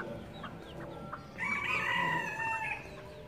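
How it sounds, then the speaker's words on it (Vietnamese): A flock of chickens at a Buddhist temple in Sóc Trăng: scattered clucks first, then a rooster's loud drawn-out crow rises over the hens, fairly close, with no talk. "Đây một cái đàn gà này các bạn."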